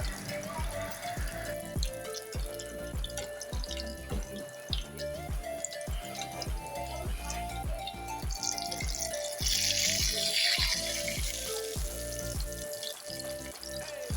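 Chili pakoras sizzle in hot oil with steady crackling and dripping pops, close and moderately loud, with no voices.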